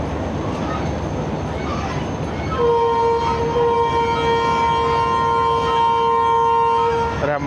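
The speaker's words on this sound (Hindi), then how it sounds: "रहमान बाबा एक्सप्रेस का डिपार्चर विसल हो गया" A departing Rehman Baba Express train sounds a long, steady whistle that holds for several seconds over a busy station platform, with voices and crowd noise underneath.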